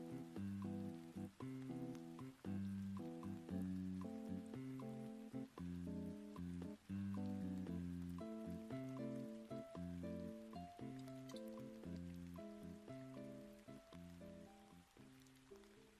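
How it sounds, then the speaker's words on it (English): Soft rain ambience with Animal Crossing music, gentle steady rainfall hiss beneath a prominent looping melodic tune, continuous and even throughout. "this is Animal Crossing music with soft rain"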